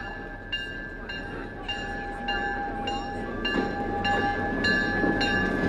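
A train stands at a station, giving out a steady low rumble under repeated short, evenly spaced clicking tones and a sustained whine, moderately close, with no talk over it.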